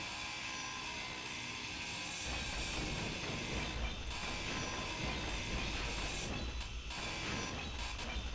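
A grinder tool in the game Space Engineers cuts through a structure, giving a steady mechanical whir and rattling drone that runs continuously and loud, with a few brief dropouts near the end.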